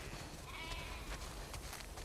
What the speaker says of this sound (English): We definitely have way too many sheep.